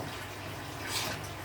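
Hot water poured into a simmering jute leaf curry, a brief, soft, steady rush of liquid heard close and fairly quiet.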